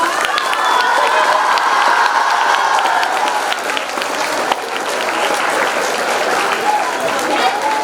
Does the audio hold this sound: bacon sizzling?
no